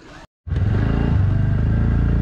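A motorcycle ride: after a brief cut, an engine idles and then runs with a close, loud, steady throbbing rumble and a regular pulse.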